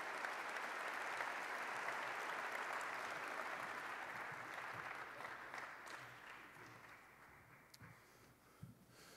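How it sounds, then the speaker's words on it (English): An audience at a State of the City address applauds Marcy Friedman before an award presentation, a broad sustained clapping that runs strong for several seconds, then thins out and fades, with a few scattered claps near the end. "Round of applause for Marcy Friedman."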